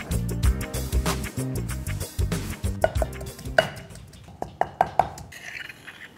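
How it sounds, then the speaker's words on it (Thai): A knife cuts tofu into cubes on a cutting board in quick repeated knocks, then slows to a few scattered taps, over faint background music. "จากนั้นเราก็มาหั่นเต้าหู้ครับให้เป็นก้อนสี่เหลี่ยม"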